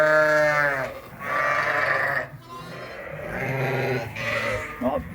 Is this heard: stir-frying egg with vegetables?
no